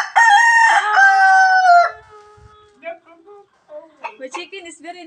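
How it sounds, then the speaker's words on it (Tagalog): A noisy chicken crows loudly and close by, a long drawn-out call, followed by a series of shorter clucks and squawks with brief pauses between them. "My chicken is very noisy."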